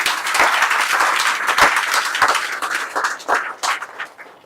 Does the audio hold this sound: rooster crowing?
no